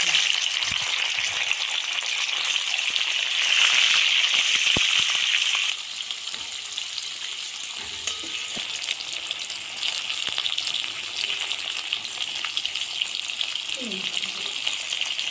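Cashews, poppy seeds, ginger and tomato frying in a pan for a vegetarian paneer dish, a loud hiss of hot oil that eases partway through, with occasional stirring knocks.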